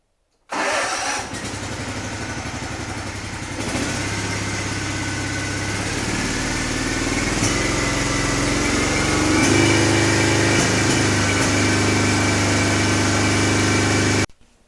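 A zero-turn mower's engine, back together after blade maintenance, cranks and catches, then settles into a loud, steady idle with a slightly uneven firing rhythm before cutting off abruptly at the end.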